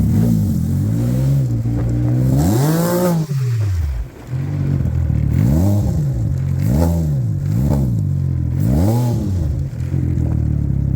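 A Can-Am Ryker spinning donuts in snow in sport mode, its engine revving loudly and close in repeated rising-and-falling surges, with one brief drop in between.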